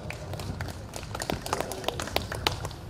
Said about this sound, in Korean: 여러분 박수로 청해 주십시오.